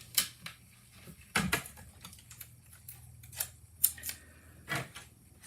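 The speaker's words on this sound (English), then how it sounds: "then we're gonna cut the heart" Scissors cutting a paper heart for a slim handmade card, giving several crisp, separate snips at an irregular pace, close up and with no voices.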